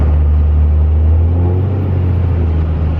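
A second-gen Cummins diesel truck rolls coal, a loud, steady low engine rumble with a faint rising rev partway through, alone and close up.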